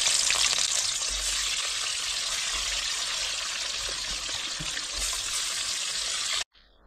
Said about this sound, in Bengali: এখন এক এক করে ছেড়ে দেবো এই কাতলা মাছ, নুন হলুদ মাখিয়ে রেখেছি